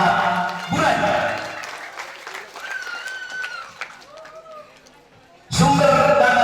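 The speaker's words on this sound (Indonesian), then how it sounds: "Tepuk tangan untuk jemaat Bulan." Applause from a church congregation at a Toraja church consecration service, bursts of clapping at the start and again near the end, with voices and crowd murmur in between.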